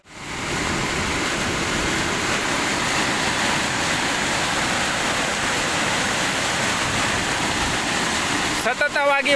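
A rain-swollen village stream overflows after an hour of torrential rain, rushing in a loud, constant roar, unbroken for several seconds, with a voice starting at the very end.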